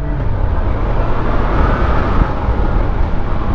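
A motorcycle with a stock exhaust and a sport-bike-derived engine accelerates gently, its close, steady rumble building slightly as the revs rise.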